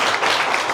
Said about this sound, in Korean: 우리 다시 하나님께 영광의 박수 올려드릴까요?